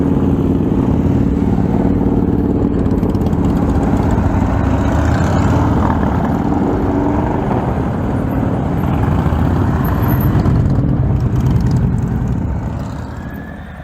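A lowrider motorcycle engine runs steadily and loudly up close for the whole stretch, its low throbbing drone unbroken while the bike is ridden through a series of U-turns, fading slightly at the very end.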